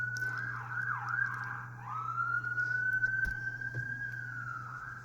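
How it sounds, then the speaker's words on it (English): An emergency siren wails and warbles at a distance, then settles into a long steady tone, over a low constant hum. "Don't know whether it is the police or an ambulance."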